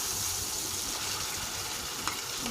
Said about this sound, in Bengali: তেলটা একটু গরম হয়ে আসলে ম্যারিনেট করা মাংসটুকু দিয়ে দিলাম।